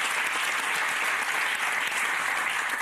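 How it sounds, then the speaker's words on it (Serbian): An audience gives a studio talk show guest, actor Nikola Simić, a round of applause, a dense, steady clapping from a crowd that carries through the whole moment without pause. "Jedan veliki aplauz."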